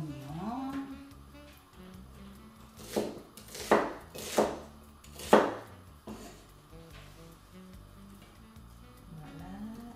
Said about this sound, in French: maintenant on coupe. Oignon.